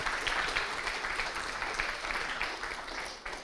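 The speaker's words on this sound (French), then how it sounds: "On applaudit notre jury, s'il vous plaît." An audience at the finale of an eloquence contest in Le Mans claps for the jury. Dense, continuous applause stays loud throughout and eases slightly at the end.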